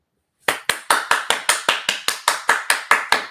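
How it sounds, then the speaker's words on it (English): An audience claps in tight unison: about fifteen sharp, evenly spaced claps at a quick, steady rhythm, loud and close, with no talking. "Clap it up."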